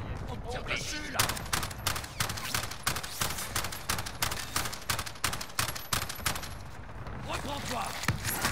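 Rapid, rhythmic bursts of automatic rifle fire in a Call of Duty Modern Warfare match on Rebirth Island, loud and evenly spaced for several seconds, with a player's voice speaking around the shots.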